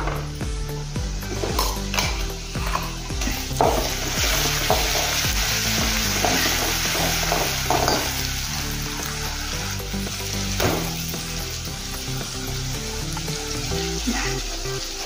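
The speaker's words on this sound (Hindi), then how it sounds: "जो हमने मसाला तैयार किया था ये वाला, वो इसमें डाल देंगे" Masala tossed with browned onions in a hot pan, sizzling and frying continuously at close range, with frequent stirring scrapes and light clinks of a utensil against the pan, under steady background music.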